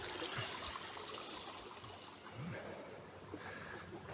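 Dirty water trickles softly through a bag of sphagnum moss acting as a filter, a quiet, continuous dribble with faint background noise.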